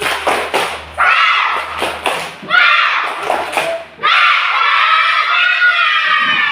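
Schoolchildren in a classroom perform the tepuk semangat clapping chant, with bursts of rhythmic group claps and thumps followed by loud, shouted children's voices chanting together.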